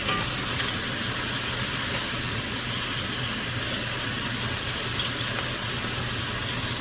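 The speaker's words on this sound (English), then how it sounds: "I'm going to try to get a sear on it" Beef searing in a hot pan for French dip sandwiches, a constant, close hiss and crackle of sizzling fat that holds steady throughout.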